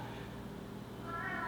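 A cat named Simba meows loudly in a brief, drawn-out cry that rises toward the end, close by in a quiet room.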